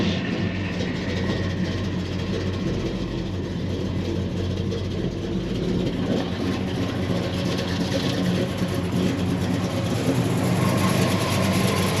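A 1969 Chevy Chevelle Malibu engine with a cam runs steadily at a rough, lumpy idle, loud and close, with a constant low rumble throughout and no voices.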